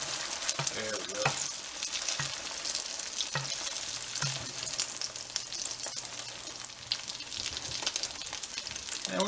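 Shrimp egg foo young patties fry in a hot pan with a steady, dense sizzle and crackle, punctuated by occasional louder spits and pops as they settle in the oil.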